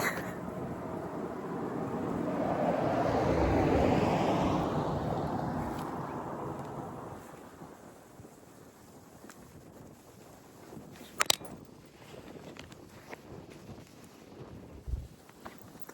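Heavy wind buffets the microphone in a low rumbling roar that swells and then fades, followed by quieter outdoor rustling and a few sharp knocks.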